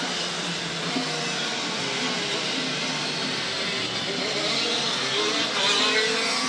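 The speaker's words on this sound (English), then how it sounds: "Everyone's making their starting procedure practices." Racing karts on a wet track during practice starts at a CIK-FIA kart championship round at Laitse Rally Park rev together in a dense, continuous engine drone, loud and sustained with rising pitches.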